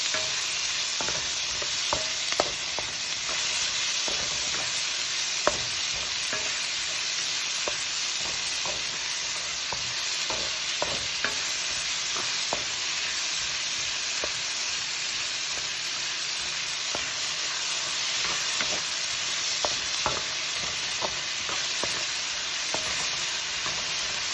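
Saltfish sizzling and frying in a salted pot for seasoned rice, with steady loud hiss throughout and frequent scraping clicks of a utensil stirring, no talking.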